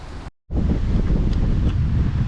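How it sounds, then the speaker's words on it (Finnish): Wind buffets the microphone beside a forest pond on a fishing day trip, a loud rumbling roar that cuts out briefly and then returns, steady and close with no talk. "tuuli vaan yltyy, kun lähti noin pilvet pois tuossa"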